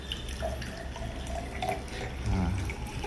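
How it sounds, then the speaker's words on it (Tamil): Perrier sparkling water pours from its bottle into a glass in a steady, close splashing stream with fizzy, bubbling texture throughout and no talk. "கொட்டுறச்செல்லாம் தண்ணி சவுண்டு தான் வருது."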